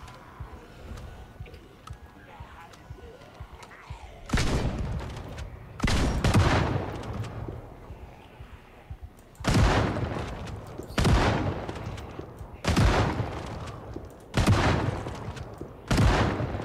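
Shots from a two-round gun in the zombie survival game Project Zomboid ring out as loud, sharp reports, mostly spaced in close pairs with short pauses between them, each followed by a brief decaying tail over a quiet background.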